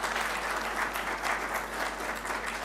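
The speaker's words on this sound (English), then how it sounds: "a big round of applause to my fellow panelists who've done a great job" An audience at a business forum applauds panelists with steady, dense clapping from a crowd, heard moderately loud at a fair distance with no talking over it.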